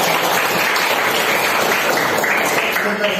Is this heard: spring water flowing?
no